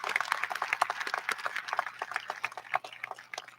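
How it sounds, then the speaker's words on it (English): Applause from a crowd at the Rhea County High School 2021 graduation ceremony, soft and somewhat distant, with scattered uneven claps pattering throughout. "Let's give them all a round of applause."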